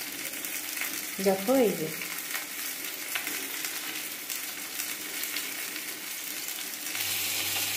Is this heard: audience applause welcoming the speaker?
no